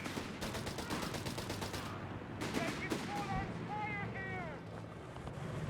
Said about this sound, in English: Panzer getting blasted, bombarded, harried by American high explosives.